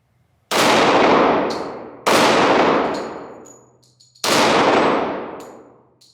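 Three loud shots from a Glock 41 Gen 4 .45 ACP pistol, each ringing off steel targets with a sharp clang and a decaying metallic ring, spaced about two seconds apart outdoors.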